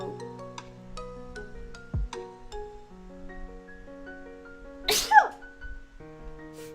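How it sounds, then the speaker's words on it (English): A single sharp sneeze bursts out over quiet background music, preceded by a short intake of breath. "I made the pause because I need to sneeze"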